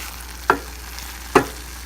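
Keema (minced meat) cooks dry in a pan, with a low, faint sizzle broken by two sharp, brief scrapes of a spoon stirring it.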